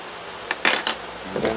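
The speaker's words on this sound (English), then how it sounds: "Give that a good stir." A metal spoon stirring turkey noodle soup in a pot gives a few quick, close clinks and scrapes against the side.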